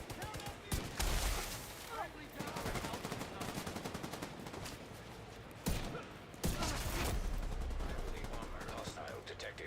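The Virginian 1886 lever-action rifle firing in the video game The Division 2, with several loud, punchy shots and booming reports over a busy battle din, mixed with a voice talking.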